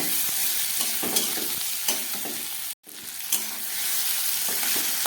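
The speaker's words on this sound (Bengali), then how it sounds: "এবার এই সিদ্ধ করে রাখা আলুটাও আমি এর মধ্যে দিয়ে দিচ্ছি।" Onion, tomato, capsicum and small boiled potatoes fry in a pan with a continuous loud sizzle, broken by scraping stirs and one abrupt momentary cutout near the middle; no voices.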